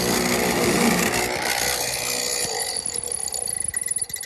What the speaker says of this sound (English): So I'm using a chisel to hand fit this half lap for the curve section.